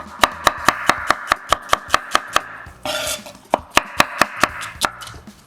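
A knife chops cauliflower steadily on a cutting board, quick even strikes in a regular rhythm, pausing briefly before the chopping resumes.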